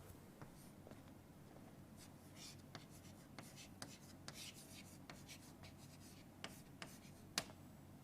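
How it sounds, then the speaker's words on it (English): A pen or marker scratches and taps faintly on a board during a semiconductor lecture, a series of short strokes over a low steady room hiss. "let me just write on the board here,"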